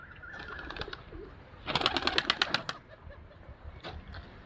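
Competition racing pigeons in flight give a quick burst of wing flaps and soft calls, fairly close but faint, with a couple of shorter flutters before and after.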